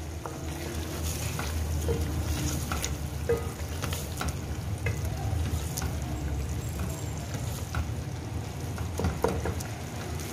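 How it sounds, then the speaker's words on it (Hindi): Minced-meat koftas fry in oil-released masala in a pan, giving a continuous dense sizzle and crackle with scattered stirring scrapes throughout, close and steady, with no voices. "अब इसमें मैं कोफ्ते ऐड करूंगी और इनकी भुनाई करूंगी।"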